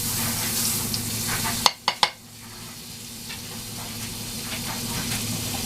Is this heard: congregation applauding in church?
no